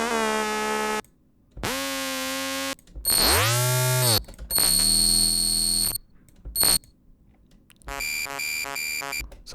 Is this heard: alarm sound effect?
yes